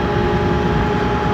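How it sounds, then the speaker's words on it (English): A car engine idles and revs outside a house, a loud, steady low rumble with a droning tone that holds throughout, with no speech. "just turn off your freaking car when you're in front of my house"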